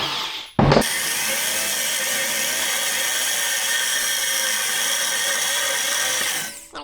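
A power drill bores bigger holes through a homemade tail tidy number plate holder, a loud, steady whine running near-continuously for about six seconds after a brief start.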